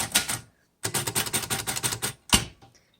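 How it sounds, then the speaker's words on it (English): Keys of a 1938 Royal Junior portable typewriter are struck in a quick, even burst of about a dozen close, crisp clacks, with a few separate sharp strikes before and after. "let's go ahead and test out all the keys"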